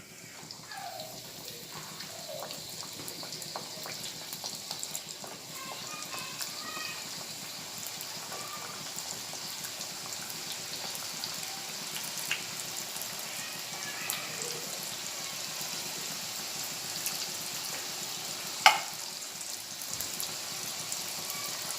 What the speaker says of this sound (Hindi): अब मैं इसमें समोसे फ्राई के लिए डालूंगी।